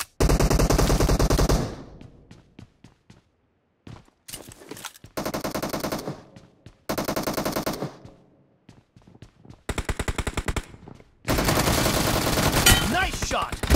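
Bursts of automatic gunfire from the battle royale game BGMI, several loud, dense volleys separated by short pauses and scattered single shots, close and dominant with no talk.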